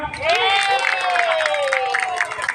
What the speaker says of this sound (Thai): ปรบมือให้รัฐบาลยิ่งรักหน่อยสิครับ